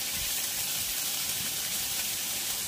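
Ginger paste with turmeric sizzles in hot oil in a pan while making plain taro-leaf greens with chickpeas, a steady soft hiss of frying that continues unbroken with no talk.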